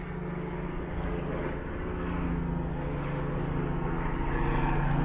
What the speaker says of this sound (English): There's always a helicopter.